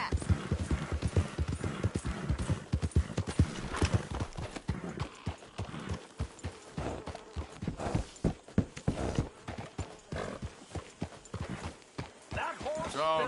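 Steady clip-clop of horse hooves walking at an even pace in Red Dead Redemption 2, with voices talking over the rhythmic footfalls.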